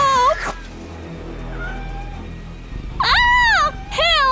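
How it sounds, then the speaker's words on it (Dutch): A cat meowing loudly in a few drawn-out, wavering cries, one near the start and two more close together near the end, over a low background hum. "Wil je de kat redden?"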